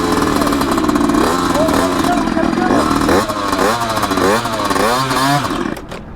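Gas-powered eridepro SS 2.0 motorbike revs repeatedly, a rough close engine rising and falling in short bursts with clattery mechanical noise, while a person talks over it.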